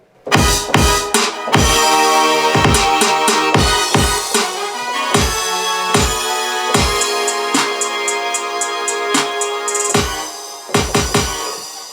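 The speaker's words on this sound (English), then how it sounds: "we put a brass on there because the brass and hits always make something sound triumphant" Hip-hop beat with punchy brass hits over a steady rhythm, loud and up close, with sharp staccato stabs and a few sustained horn chords building toward a break; no voices.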